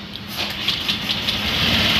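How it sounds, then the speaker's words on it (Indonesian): A Honda Vario 125 scooter engine starts up and settles into a steady, fairly loud idle, its hum continuous and close throughout with no talking over it. "Oke, kita pilih, kemudian kita nyalakan mesinnya."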